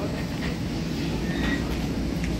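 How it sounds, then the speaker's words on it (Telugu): Airport metro train inside Dubai International Airport, a steady muffled rumble of the carriage in motion, heard from within at moderate loudness. "ఎయిర్పోర్ట్ లోపల మెట్రో ఉంది మనం గేట్ వరకు వెళ్ళటానికి"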